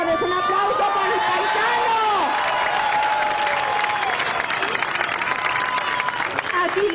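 Crowd applause at a 2015 election campaign rally in Mexico, steady clapping and chatter throughout while someone speaks loudly over it.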